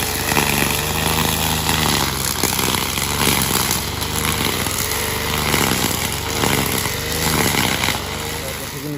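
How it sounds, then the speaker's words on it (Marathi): A grass-cutting machine with a cutting rope instead of a blade runs in the Konkan countryside, its engine giving a steady, close, continuous drone with a slight rhythmic wobble throughout. "ग्रास कापायची मशीन कशी काम करते"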